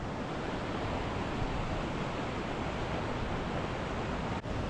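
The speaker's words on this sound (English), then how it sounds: "still nice to have the sound of the river to sleep to" Steady, even rushing of a flowing river fills the whole stretch with a constant broadband hiss, close and unbroken.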